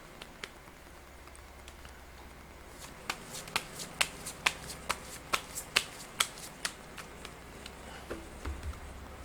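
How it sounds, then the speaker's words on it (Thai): Playing cards are shuffled for a tarot-style fortune-telling draw, a quick run of crisp riffling snaps building then fading out, close and alone over a faint background hum. "เดี๋ยวจะมาเสี่ยงไพ่ ให้เพิ่มเติมนะครับ"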